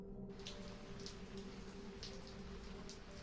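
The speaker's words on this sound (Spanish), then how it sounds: "Está lloviendo sangre." Blood rain falls in the horror video game Spectator, a steady, soft hiss of patter with scattered brighter drips, continuous and fairly quiet throughout.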